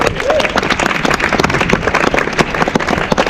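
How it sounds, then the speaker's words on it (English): Crowd applause and cheering at a Justice for Osime Brown protest outside the Home Office, a dense steady wash of clapping and shouts that stays loud and continuous throughout. "Get them all a big cheer"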